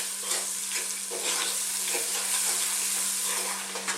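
Garlic and curry powder cook in a hot pan for chicken curry, giving a continuous close sizzle with frequent stirring scrapes throughout and no voices.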